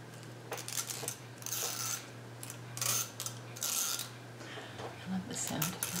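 Two hair combs handled and back-combed through hair in a quiet ASMR setting, giving soft scratchy rubbing and clicking strokes in repeated bursts, close and gentle over a low steady hum, with no talking.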